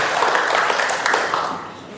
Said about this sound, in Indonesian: Bapak Andi, kita berikan tepuk tangan Bapak Andi ya.